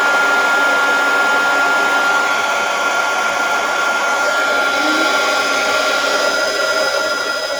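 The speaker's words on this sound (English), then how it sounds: "And get this, and get my heat tool. Warm up a little bit." A heat tool for crafting blows hot air with a steady, loud whooshing hum that holds nearly unchanged from start to finish, close by and alone.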